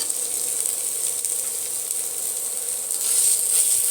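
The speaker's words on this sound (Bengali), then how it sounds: "এবারে দিয়ে দেব একসঙ্গে বেটে রাখা আদা রসুন" Ginger-garlic paste frying in oil in a pan for fish curry, giving a steady hiss that grows a little louder toward the end, with no voices.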